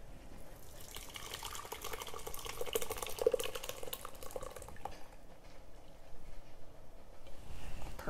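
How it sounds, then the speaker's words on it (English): Freshly cooked raspberry shrub syrup, just off the stove, is poured into a strainer, giving a soft, uneven liquid splashing and trickling that swells and eases over about eight seconds, fairly quiet and close. "So we're going to pour this into a strainer."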